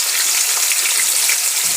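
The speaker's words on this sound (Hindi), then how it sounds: "अब मैं इसमें प्याज डाल लेती हूँ, जिसको मैं ब्राउन कर लूँगी।" Chopped onions frying in hot oil with spices, a steady, loud, bright sizzle that continues unbroken with no talking.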